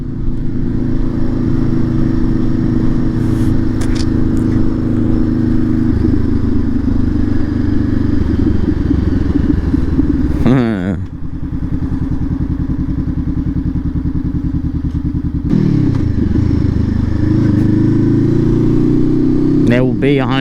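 A 650 motorcycle engine idling and revving close by, a loud, steady low rumble with a few sharp throttle blips and gear shifts, and people talking over it.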